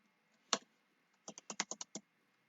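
Python code typed on a computer keyboard: one isolated keystroke, a pause, then a quick run of six crisp, close taps in even rhythm over near silence.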